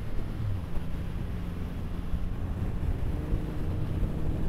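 Triumph Rocket III motorcycle from 2023 riding at speed, a steady low engine drone heavily buffeted by roaring wind noise throughout, with no talking.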